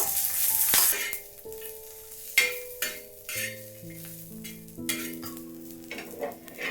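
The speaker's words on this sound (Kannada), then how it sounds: "ಸ್ವಲ್ಪ ಎಣ್ಣೆ ಹಾಕೊಂಡು ಇದನ್ನು ಹುರ್ಕೋಬೇಕು" Garlic and cumin frying in a little oil in a pan, a soft continuous sizzle broken by stirring scrapes and clinks of a spatula, with a faint tonal hum in the background and no talking.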